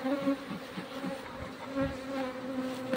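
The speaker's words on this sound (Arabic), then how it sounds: "ثم ننفض النحل." A swarm of honeybees shaken off a hive frame fills the air with a steady, close, droning buzz, with individual bees rising and falling in pitch as they fly about.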